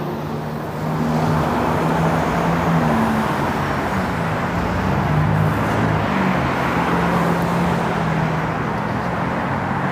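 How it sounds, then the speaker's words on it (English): A York Region Viva transit bus rolls through street traffic near Thornhill in North York, Toronto, in winter, with a continuous engine drone and road rumble from nearby vehicles. "There is a Viva bus."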